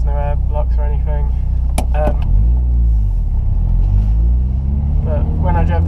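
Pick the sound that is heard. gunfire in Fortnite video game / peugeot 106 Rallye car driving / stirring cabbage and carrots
peugeot 106 Rallye car driving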